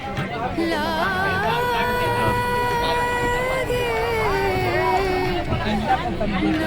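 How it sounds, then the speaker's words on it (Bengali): Dense crowd hubbub and overlapping chatter fill a packed general-class train compartment bound for the Kumbh Mela, with a steady close murmur of many voices and a few louder calls rising over it throughout. "প্রচুর ভিড় এই ভিড়ের মধ্যেই যেতে হবে"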